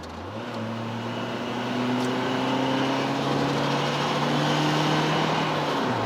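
Mitsubishi Lancer engine running on LPG after switching from petrol, a steady in-car hum with rising tonal harmonics as it revs, growing slightly louder and holding on.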